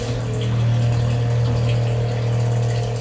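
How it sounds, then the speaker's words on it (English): John Deere sprayer attachment on a riding mower, its pump running clean water through the lines to purge them, a steady loud droning hum with rushing liquid, continuous and close. "We're just running straight water through there to kind of purge the line out"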